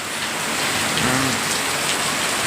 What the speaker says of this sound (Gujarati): પલળવાની અલગ જ મજા છે વરસાદ.